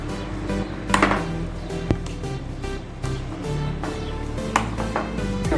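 Chopped onion and tomato tossed together in a bowl for chana chaat, giving irregular clinks and scraping taps of a spoon against the bowl, close and moderately loud, with no talking.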